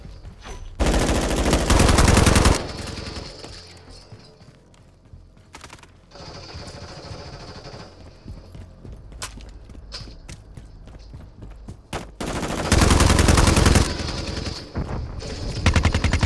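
Enemy turret gunfire in Call of Duty MW3 multiplayer, loud bursts of rapid automatic fire in several strings separated by quieter stretches of game noise.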